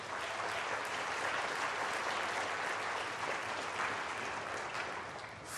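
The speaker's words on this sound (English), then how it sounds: "Let's give them all a nice round of applause." Audience at a school district state-of-the-system address breaking into sustained applause, a dense wash of clapping from a large crowd in a hall that holds steady and tapers slightly at the end.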